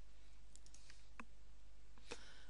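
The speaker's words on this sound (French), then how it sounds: "j'appuie sur la touche Z du clavier" A few faint, sharp clicks of a single key pressed on a computer keyboard, quiet and close against a steady low hum, with no talking.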